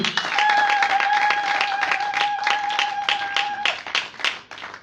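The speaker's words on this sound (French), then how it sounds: "Acclamons d'abord la gloire de Dieu." A church congregation breaks into sustained applause during a worship service, dense clapping from many hands filling the room, with a steady ringing tone held above it before the clapping thins out at the end.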